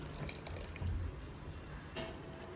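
Water drains from cooked rice for Hyderabad biryani as it is lifted out and placed in a strainer, making a continuous soft trickle and splashing at low level, steady throughout with no voices.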